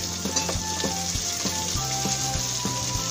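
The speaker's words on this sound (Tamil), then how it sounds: "நம்ம இந்த சமயத்தில் வெங்காயம் சேர்த்துக்கலாம்." Onions tipped into garlic frying in butter for veg masala noodles, a steady close sizzle with soft stirring scrapes and small pops, no talk.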